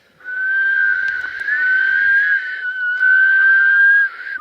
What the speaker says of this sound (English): We're all 3 going to whistle and see what it sounds like.